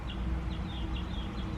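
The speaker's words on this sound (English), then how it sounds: "Do you hear those birds chirping?" Birds chirp in a park, a few thin, repeated high chirps at a moderate distance over a soft, steady outdoor background hum.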